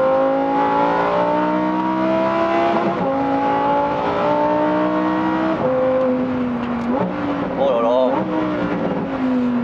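A Lamborghini Huracan STO's engine revs loudly and continuously from the cabin, its pitch climbing and dropping through repeated surges and gear changes.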